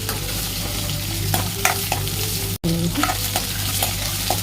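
Whole small shallots sauté in oil for an anchovy dry fish gravy, producing a loud, continuous sizzle with scraping stirs throughout. A brief dropout occurs midway. No voices are heard.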